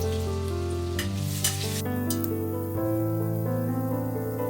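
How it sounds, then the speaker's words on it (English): Crushed onions, garlic, ginger and green chilli sizzle steadily in oil and ghee in an Instant Pot on sauté, with stirring scrapes and soft background music, with no talking. "Then add crushed onions, garlic, ginger and green chilli and saute them well."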